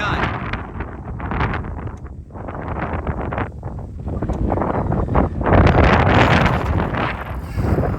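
Strong wind blows outdoors across the microphone at a Traxxas Slash 2WD RC car speed test, a loud continuous rushing roar that swells and gusts, growing stronger toward the end.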